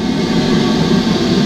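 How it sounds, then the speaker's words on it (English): A heritage train hauled by a preserved Hall class steam locomotive at the Bluebell Railway's autumn steam gala, heard from on board as a steady, loud low rumble of running carriages with no distinct exhaust beats. "Today, it's great that I'm on a train with this fine loco in charge up ahead."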